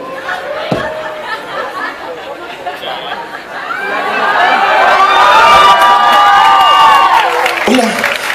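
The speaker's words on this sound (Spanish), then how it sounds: "Muchas gracias por sus aplausos" An audience applauds and cheers after a stage performance, starting as low murmuring and chatter, then swelling midway into sustained clapping with high whoops that tails off near the end.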